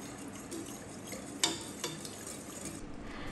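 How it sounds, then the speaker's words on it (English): A spoon stirs a coconut milk mixture with tapioca flour in a pot for Malaysian red bean popsicles. Soft, quiet swishing carries a couple of distinct clinks of utensil against the pot. "Stir it well so that there are no lumps."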